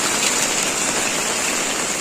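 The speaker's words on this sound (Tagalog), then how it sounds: "Tapos ngayon, ang ulan." Steady, dense rain pours down during Typhoon Amang in Bicol in summer, a continuous close hiss of drops on surfaces with no pauses or voices.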